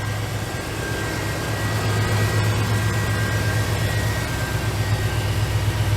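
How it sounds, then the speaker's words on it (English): Steady idle of a 1964 Chevrolet C10 short-box pickup's fuel-injected 5.7 liter V8, a continuous low rumble with a faint whine, close and alone. "Sounds good, good sounding, smooth running engine."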